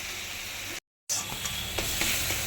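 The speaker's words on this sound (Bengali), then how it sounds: "মাথাটা আমি এইভাবে ভালো করে ভেজে নিচ্ছি" Prawn heads frying in hot oil, a continuous close sizzle and hiss with a few soft stirring knocks, broken by a short gap of silence.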